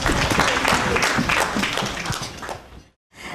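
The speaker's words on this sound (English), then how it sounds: "How about a round of applause once again for El Gama Penumbra?" Conference audience applauding, a dense wash of many hands clapping at steady volume that cuts off abruptly near the end before a brief return.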